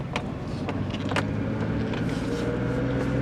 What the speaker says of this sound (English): it has the typical reverse gear whine